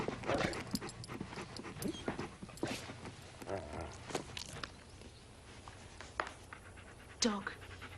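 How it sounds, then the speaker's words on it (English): A dog brought into a house as a child's playmate pants in quick, breathy bursts at close range, with footsteps, clattering movement and voices around it. "Dog."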